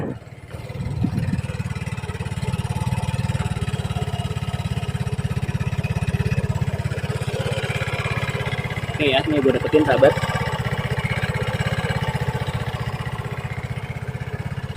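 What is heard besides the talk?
motorcycle engine running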